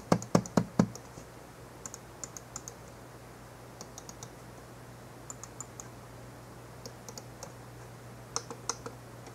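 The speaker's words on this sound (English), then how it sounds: "But here's the click difference." Buttons on a Logitech LX5 wireless mouse click sharply and close, several quick loud clicks at first, then scattered lighter clicks in small clusters against a quiet room with a faint steady hum.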